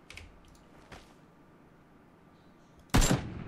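Gunfire in the online shooter PlayerUnknown's Battlegrounds: faint distant shots early on, then a loud close burst near the end over quiet game ambience and soft keyboard clicks.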